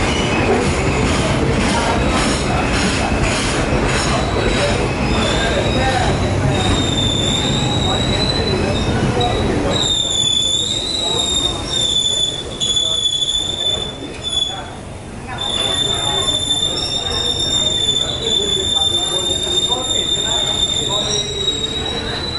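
Ekspres Rakyat Timuran passenger train hauled by a 25 class locomotive, heard from on board with loud continuous rumble and sustained high wheel squeal that rises and fades repeatedly.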